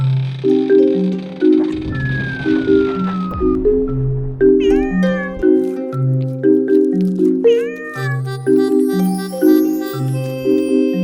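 Cats meow repeatedly and loudly up close, long drawn-out cries overlapping one another in a steady sequence over a looping tonal backdrop.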